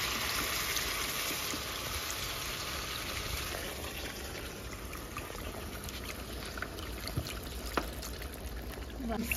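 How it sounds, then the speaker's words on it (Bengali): Water pours into a pan of chicken curry cooking on a village-style stove, making a soft, steady splashing trickle that fades into a quieter sizzle. "এবার জল দিয়ে দিচ্ছি।"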